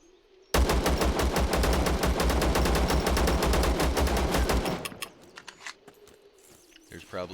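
Rapid automatic gunfire in the video game ZERO Sievert during a fight with the Green Army, a loud sustained burst of closely spaced shots lasting several seconds, then a sudden stop followed by quieter scattered game sounds.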